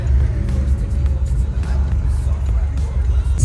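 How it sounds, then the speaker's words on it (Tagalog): Dense Los Angeles street traffic rumbles continuously up close, with low engine drone and passing cars filling the whole stretch. "Super daming sasakyan dito sa LA."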